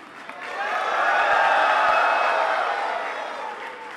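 Crowd applause at a convocation ceremony swells over a few seconds and holds, a broad wash of clapping from a large audience that fades slightly toward the end.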